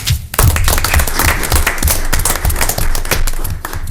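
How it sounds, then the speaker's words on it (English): Applause for a departing fire chief at a city council meeting, a steady burst of clapping from a room full of people with some thumps mixed in, loud and continuous across the whole stretch. "We want to give Curtis Spence, the previous chief, a round of applause, actually, for 3 years of serving as our fire chief."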